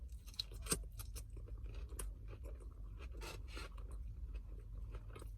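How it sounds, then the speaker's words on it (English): Crisp crunching and chewing of vegetables in street food from a food truck in Panama City, Florida, with close, irregular bites and rustles over a low steady background rumble. "I know y'all hear me crunching in them vegetables."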